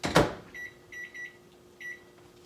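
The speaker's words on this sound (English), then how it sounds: "So we're gonna put this in the microwave." A microwave oven cooking potatoes starts with a door thump, then a few soft beeps and a low steady hum.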